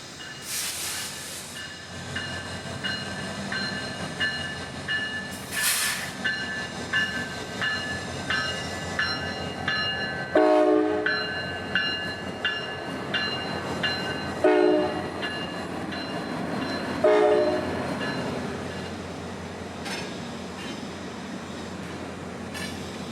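A freight train rolls slowly onto a yard lead, its wheels clacking and flanges squealing over the rails under steady rumble and hiss, with horn blasts sounding near the start.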